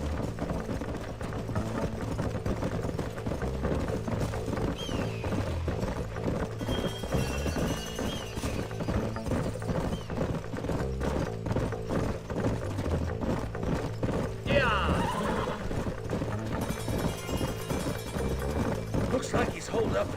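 Horses' hooves clip-clop in a steady, overlapping rhythm in the video game Red Dead Redemption, with riders' dialogue running over the hoofbeats throughout.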